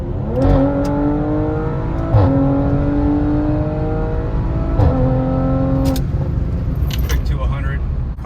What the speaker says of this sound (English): let's get a wide open throttle pull from 60